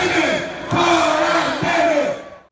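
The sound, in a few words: Brazilian crowd chanting "Temer out"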